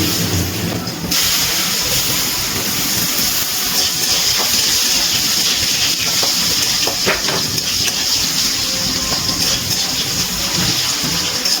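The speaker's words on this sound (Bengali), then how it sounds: "একটা মাঝারি সাইজের আলু আমি লম্বা লম্বা করে কেটে নিয়েছি, সেটা দিয়ে ভেজে নিচ্ছি।" Medium-sized potato cut into long strips frying in a pan for a spring onion stalk dish, giving a steady, loud, continuous sizzle and hiss throughout with a few faint clinks.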